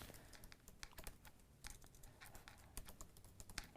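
Typing on a computer keyboard, a quiet, irregular run of key clicks and taps with a few sharper strokes, close up and alone with no talking.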